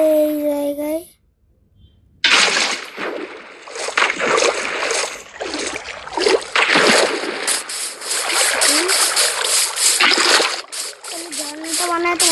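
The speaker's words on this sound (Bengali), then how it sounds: "আগে ওয়াটার দিতে হবে" Water placed in a Minecraft world gives a sustained splashing, rushing wash that begins abruptly after a short tone and a near-silent gap, then continues steadily with fluctuating bursts.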